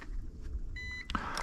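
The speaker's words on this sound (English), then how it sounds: "The drone flat and level until you hear a beep" A Holy Stone HS720R drone gives a short, faint electronic beep during compass calibration, a steady tone lasting about a third of a second over a low background rumble, followed by brief soft clatter.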